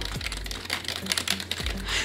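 Keys clacking on a Corsair K55 RGB Pro gaming keyboard, a quick, fairly muted run of close keystrokes with a few low thumps, no talking.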